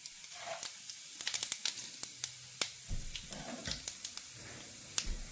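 Cumin seeds sizzle in hot oil in a home kitchen pan, a steady frying hiss dotted with sharp crackles and pops that bunch up toward the middle, close and fairly quiet, with no talking.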